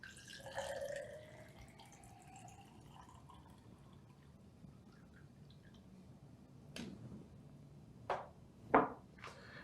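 Water is poured into a hydrogen water sport bottle, giving a quiet filling gurgle at first, then a few scattered drips and splashes near the end in an otherwise calm room.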